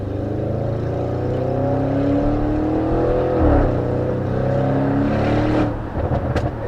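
A 730 bhp Audi RS6 accelerating hard, loud rising engine drone climbing through the revs, a brief dip at a gear change, then a final upshift and crackle as the pull ends.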